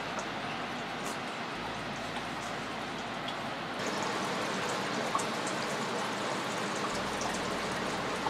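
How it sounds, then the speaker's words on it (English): Steady morning rain in Southeast Alaska patters down in a soft, continuous hiss, with scattered drops tapping nearby surfaces. "The rain continues the following morning."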